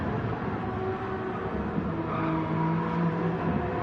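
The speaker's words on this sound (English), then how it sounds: "I really do like the sound of that car." A race car engine runs at the Le Mans 24 Hours during a GT endurance race, a steady, continuous drone with sustained harmonic tones that hold and shift slightly, heard at moderate distance without talk.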